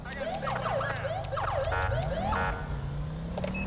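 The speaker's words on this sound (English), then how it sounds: "going ham on our switchboard with the sirens" Wailing police-style sirens in Grand Theft Auto V sweep up and down loudly and continuously, layered over a low engine drone, with a quick yelping pattern in places.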